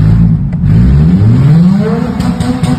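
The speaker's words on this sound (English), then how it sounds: "Let's hear that rev again." A Mazda RX-7 rotary engine revs up close and loud, its raspy buzzing pitch sweeping upward in one long climb and holding high before easing slightly.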